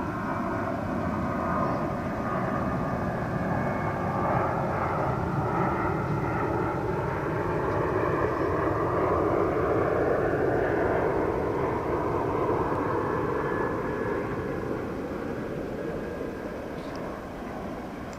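A fixed-wing airplane on the ground at Dallas-Fort Worth airport gives off a steady jet-engine roar and whine that stays fairly distant and even for the whole stretch, fading slightly near the end, with no one talking.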